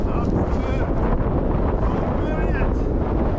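Strong wind at a paragliding site in Sätra roars across the microphone, a loud, continuous, buffeting rush with no letup, and faint voices may sit underneath.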